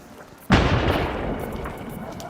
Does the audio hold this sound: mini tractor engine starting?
no